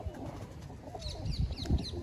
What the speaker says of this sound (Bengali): অন্ধ্রা পায়রা।